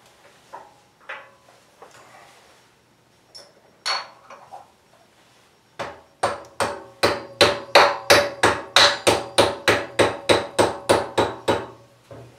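A hammer taps repeatedly on a metal part of a trailer hub to knock it loose, first a few scattered knocks, then a rapid, even run of sharp, loud metallic strikes close by.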